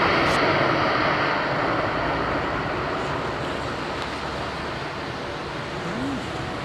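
A Turkmenistan Airlines jet arriving at London Heathrow in wet weather makes a broad, steady roar that fades slowly over the whole stretch, with no voices.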